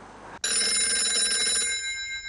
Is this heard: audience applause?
no